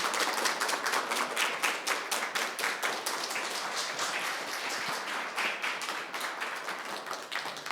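Audience applause after a lecture by author Im Kyung-sun at a youth culture festival, a steady wash of many hands clapping close and loud throughout, with no talk.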